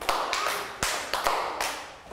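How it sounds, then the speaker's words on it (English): A group of young students clap in sharp, separate bursts during a first-grade math lesson. The irregular close claps stand alone, with no talking. "clap four times."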